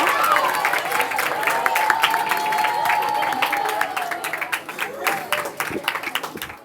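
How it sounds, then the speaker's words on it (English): A school annual day audience claps for performers, sustained crowd applause with scattered sharp claps while voices and tonal sound run beneath, thinning into sparser claps toward the end. "Let us give our brilliant performers a thunderous round of applause"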